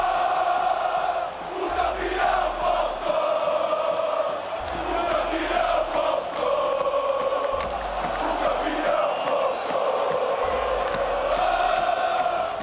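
São Paulo football fans in a stadium chant together, a loud, sustained mass of voices rising and falling in a repeating rhythm, with deep drum-like thumps recurring every few seconds beneath the crowd.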